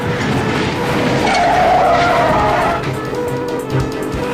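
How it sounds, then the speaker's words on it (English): A stolen car skids with screeching tires during a police chase as teens crash into a stalled car and ricochet off another, a loud, sustained squeal with engine noise, then a rougher thump near the end. "The teens slam into a stalled car and ricochet off another."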